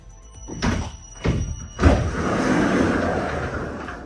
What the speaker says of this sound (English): Now to close the doors, it's exactly the same but in reverse.